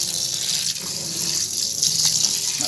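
Water poured steadily while mixing homemade liquid soap, about two liters going in, a continuous broadband gushing like a running tap filling a container, close and fairly loud with no talking.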